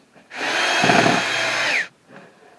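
A power drill drives screws into the wooden top of a router table, fastening it to its apron: one sustained, loud whirring burst of about a second and a half, with no talk.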